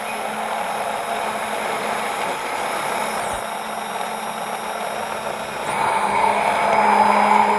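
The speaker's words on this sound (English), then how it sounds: "The blender is chopping the garlic for us." An immersion blender chops garlic in a kitchen, giving a steady, loud motorized whir that holds for several seconds and grows slightly stronger toward the end, with no speech.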